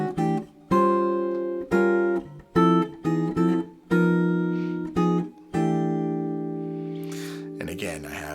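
Jazz guitar comps a 1-6-2-5 progression in rootless voicings, resolving to a C6/9: a string of ringing, rhythmically spaced chord stabs with one longer sustained chord and a syncopated anticipation into the final chord, played solo.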